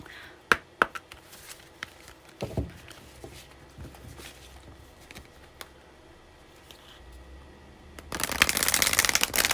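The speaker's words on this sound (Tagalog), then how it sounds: "Kukuha pa ako ng isang baraha." Tarot cards shuffle and snap in a few sharp flicks, followed by quiet handling as a card is drawn, then a louder burst of card riffling at the end.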